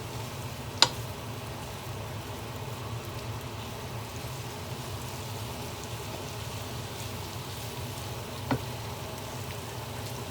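Meatballs frying in a Remoska Tria electric cooker for a meatball curry give a steady, faint sizzle with a soft crackle throughout, and two brief sharp clicks stand out near the start and near the end.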